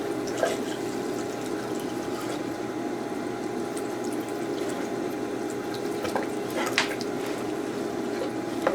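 Water runs steadily through an ore sluice as dirt from hard rock ore is washed in, giving a continuous rushing flow with occasional small splashes and gritty bursts.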